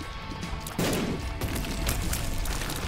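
A boss in The Binding of Isaac: Afterbirth fires explosive shots, producing a loud rapid volley of crackling blasts that hits hard partway through and keeps rattling until the end.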